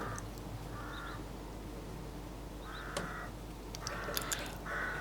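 A corvid perched on a roof gives short, harsh caws in small bursts, repeated three or four times at moderate distance over a steady low background rumble.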